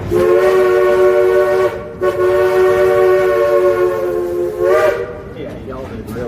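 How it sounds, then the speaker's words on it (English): A loud steam locomotive whistle on FSDL #504 blows in long toots, two sustained blasts with a short break, then a brief final burst, close by. "Give us a couple more toots on that whistle"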